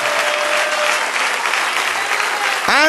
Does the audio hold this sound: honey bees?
no